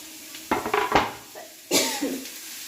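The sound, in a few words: stirring pumpkin leaf thoran in a pan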